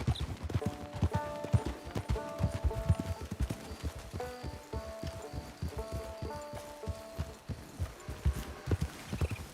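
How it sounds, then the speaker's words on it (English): Horse hooves clip-clop steadily in Red Dead Redemption 2, a brisk, fairly close rhythm of hoofbeats with faint tonal game music and light ambient patter underneath, and no talking. "It's your horse."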